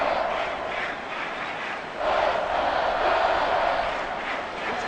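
Simulated stadium crowd in Madden 24 during a Raiders vs Lions game, a steady loud roar of cheering that swells louder around the two-second mark and holds, with no talk over it.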